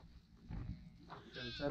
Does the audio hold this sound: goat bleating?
yes